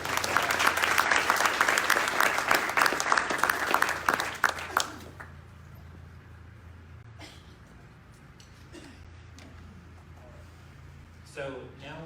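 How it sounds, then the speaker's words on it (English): Audience applause for institutional award winners at an award ceremony: loud, dense clapping for about five seconds, then quickly dying away to a quiet room with scattered faint sounds. "We got another round of applause for our institutional award winners."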